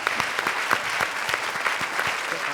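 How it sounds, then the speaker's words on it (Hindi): Studio audience at a Hindi comedy show applauding a performer, a steady wash of many hands clapping with sharp individual claps standing out, moderately loud and continuous throughout. "जोरदार तालियां शान शकील के लिए।"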